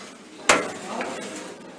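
Forks and spoons clink together as they are picked up from a cutlery holder at a breakfast buffet in a resort café in Vityazevo, a single sharp clatter followed by faint room ambience.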